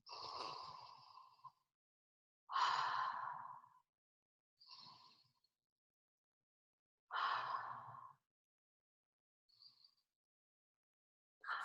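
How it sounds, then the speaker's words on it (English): Three slow, deep breaths drawn in and out while inhaling an essential oil blend rubbed between the hands, each a long airy inhale followed by a shorter exhale, close and soft against silence. "Take 3 deep breaths."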